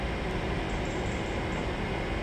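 An Edinburgh to Plymouth passenger train runs through Manors station, a steady, dense rumble and rush that holds evenly throughout without any talk.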